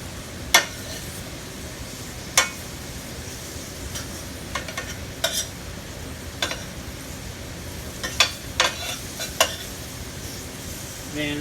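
Beef tips browning in a pan give off a low, steady sizzle broken by scattered sharp clicks and clinks of a utensil against the pan, with no talking.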